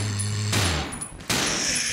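Gunfire in Resident Evil Zero HD Remaster, two sharp loud bursts of shots with decaying noise between them, over a low droning hum that cuts out after the first volley.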